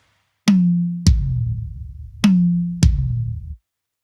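Four alternating tom strokes form a simple prog-style drum fill, higher rack tom hits each followed by a deep, resonant, unpitched floor tom that rings out with heavy low end.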